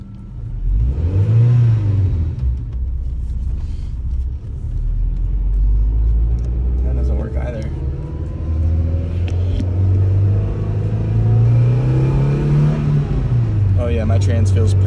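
A Honda Civic EK9 makes a drag strip pass heard from inside the cabin, its engine roaring loud and close as it revs up through the gears with rising and falling pitch.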